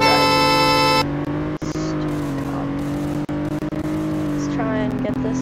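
A car accelerating in the video game Greenville, a steady engine drone that rises through the gears with shifts and brief dips, while someone talks over it.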